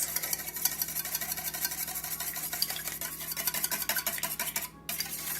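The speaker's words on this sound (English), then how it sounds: "I crack both yolks, and we're going to whisk" Eggs and milk are whisked in a big bowl with a steady, quick rhythm of wire tines ticking and scraping against the sides. The sound is close and continuous, with a brief pause near the end.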